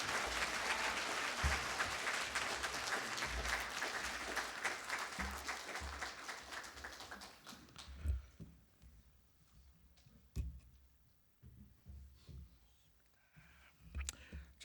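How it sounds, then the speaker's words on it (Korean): A church congregation welcomes the pastor with applause before a Sunday sermon: dense clapping fills the sanctuary, fading after about eight seconds into scattered claps, footsteps and thuds. "우리 나오실 때 우리 환영의 박수 또 하나님께 감사의 박수 올리시겠습니다."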